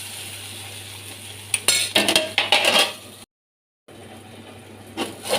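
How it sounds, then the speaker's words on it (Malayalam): Egg curry being stirred in a pot, a run of close wooden or metal scrapes and knocks against the pan over a low steady hum, broken by a brief gap of silence. "അത് നല്ലപോലെ ഒന്ന് ഇളക്കി കൊടുക്കാം"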